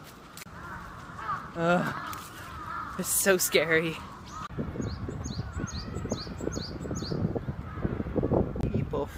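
A loud chorus of harsh, cawing calls from many birds in a tree in Japan fills the air close by, repeated and overlapping, while a person speaks briefly over the din.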